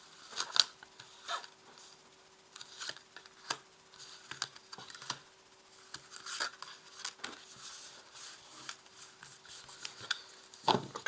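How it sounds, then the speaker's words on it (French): Tarot cards laid out one by one on a table, giving soft scattered slaps and light shuffling taps that come up close and quiet, with a sharper thump at the very end. "Et je vais ajouter une carte ici, sous chacune des cartes."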